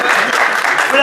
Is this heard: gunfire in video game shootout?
no